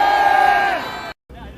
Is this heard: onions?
no